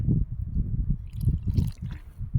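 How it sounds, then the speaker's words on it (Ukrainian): Liquid is poured into a burrow in garden soil, giving close, low gurgling, squishing and dripping as it drains into the hole. "І в цю норку заливаємо."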